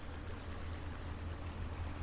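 In World Ship Simulator, a ship's engine sends out a steady low rumble under a broad wash of water noise, holding even and continuous with no talking over it.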